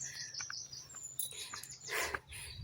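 Small birds in Lebanon chirp and tweet in quick, scattered bursts, fairly faint against quiet outdoor background noise.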